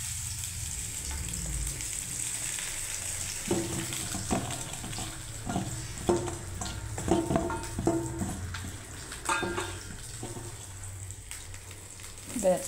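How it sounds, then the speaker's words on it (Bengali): Small eggplants coated in spiced rice powder frying in hot oil, a soft steady sizzle with intermittent bubbling and light handling noises, moderately close. "ব্যাস, এবার আমি গরম তেলে বন্ধুরা ছেড়ে দিচ্ছি।"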